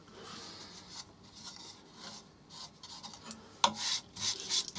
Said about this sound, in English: So I always like to contour it with a bit of shear scraping.